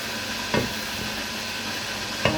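Chicken frying in a pan gives a steady sizzle throughout, with two sharp scraping stirs of a utensil against the pan, no voices.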